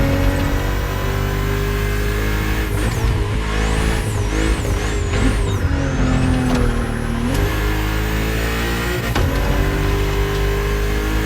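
A BMW CSL in The Crew Motorfest racing game revs and accelerates hard, its loud engine note climbing and dropping through gear changes while a whine sweeps up and down alongside.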